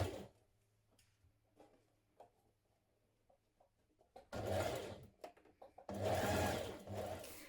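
A domestic sewing machine stitches a shirt band in place, two loud steady runs of rapid needle chatter, each a second or two long, after quiet fabric handling and faint clicks.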